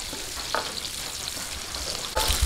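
Garlic and onion sauté in a hot pan with a continuous close sizzle, broken by a few sharp scraping stirs, without talk.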